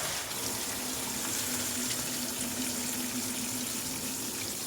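A little water being poured, a steady, even splashing stream held close and continuous for a few seconds with no talking.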